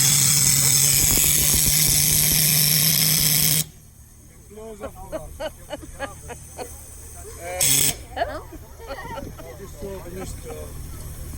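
A 4.5 inch scale model Sentinel S4 steam wagon lets out a loud, steady steam hiss for several seconds. The hiss cuts off, returns as a brief burst, and people talk over the quieter stretches.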